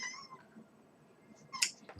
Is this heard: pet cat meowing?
yes